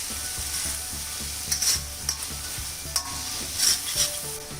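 Tomato sautéed with ginger and garlic paste for mutton keema with potato: a close, steady sizzle with scattered clicking and scraping of a spoon against the pan, no one speaking.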